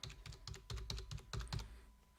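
Quick bursts of typing on a computer keyboard while entering an authorization code, with clustered close key taps in an uneven rhythm over a couple of seconds.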